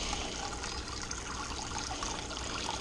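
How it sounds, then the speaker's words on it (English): Homemade plum brew poured quickly through a filtered funnel, giving a soft, continuous trickle and splash of liquid that stays fairly quiet and steady throughout. "I'm pouring this actually fast,"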